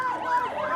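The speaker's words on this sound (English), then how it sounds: "Ambulances coming through, which they are allowing to come through." An ambulance siren wails in a rising and falling sweep as the vehicle passes through a protest crowd in Essex, loud and close.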